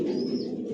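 Racing pigeons in their loft give a single low, throaty coo, close and fairly soft, held steadily for under a second with no other sounds.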